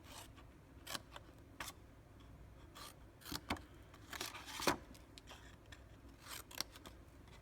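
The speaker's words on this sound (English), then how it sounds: "I'm going to cut up, slice a wedge out on each side, and then cut off a little bit of the length" Scissors snip wedges out of the tabs of a paper gift box, a string of crisp, close, quiet cuts at an irregular pace, some single and some in quick pairs.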